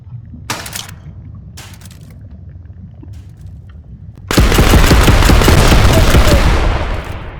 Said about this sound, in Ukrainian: О, автомат.